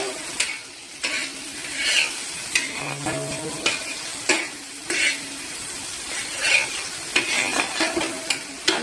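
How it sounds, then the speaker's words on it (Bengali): Turmeric being stirred into food in a hot frying pan: steady scraping strokes of a spoon over a soft sizzle, repeated in an uneven rhythm with small clinks against the pan, close by and moderately loud. "হলুদ দিয়ে নাড়বো"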